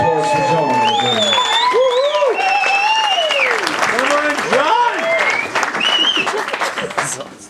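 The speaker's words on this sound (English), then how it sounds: "Round of applause for John" Wedding guests at a reception applaud and cheer with a loud, sustained clapping over excited whoops and shouted voices, tapering off at the end.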